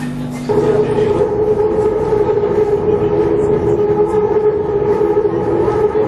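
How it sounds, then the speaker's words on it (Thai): On board a Thai elevated skytrain, a steady rumble of the carriage in motion carries a sustained electric motor whine that starts abruptly and holds level throughout, with no one speaking. "อันนี้เราอยู่บนรถไฟฟ้านะครับกำลังไปงาน"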